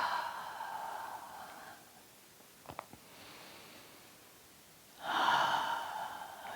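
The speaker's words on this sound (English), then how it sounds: "2 more deep breaths here," Slow, deep breaths during a yoga stretch, with a long airy exhale at the start, a quiet pause with a faint rustle, then another full, close breath rising near the end.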